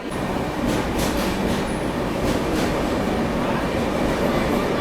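A train leaving Salem Junction on the Pune–Kanyakumari Express, a loud continuous rumble of rolling carriages heard from on board, steady throughout with faint higher squeals.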